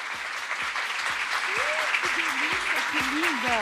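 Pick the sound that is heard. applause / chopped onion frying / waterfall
applause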